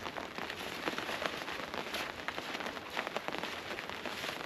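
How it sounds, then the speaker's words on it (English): Rain patters densely on the thin plastic of a clear tent during a storm, a close, constant hiss of drops with small crackling taps scattered throughout. "it's raining"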